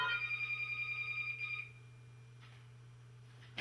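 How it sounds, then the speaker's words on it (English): A telephone rings steadily with a bright electronic warble for about a second and a half, then stops, leaving a quiet room with a low steady hum. "I'm sorry, phone ring"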